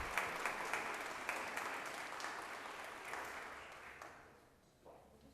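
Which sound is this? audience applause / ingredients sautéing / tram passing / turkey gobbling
audience applause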